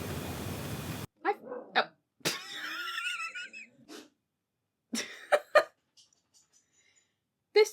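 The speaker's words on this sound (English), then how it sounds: "This dog, I swear, he is the loudest dog I've ever met in my life" Dog named Woody barking in sharp, uneven bursts at close range, with loud yelps separated by short silences and a final bark after a pause.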